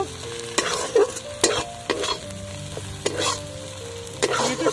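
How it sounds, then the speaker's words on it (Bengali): Veto shaak greens with chili powder stirred in a frying pan over a steady oily sizzle, with several distinct loud scraping strokes spaced a second or so apart, close up and no talking. "সবশেষে আমি দিয়ে দিলাম মরিচের গুঁড়ো, একটু নাড়াচাড়া করে নেব।"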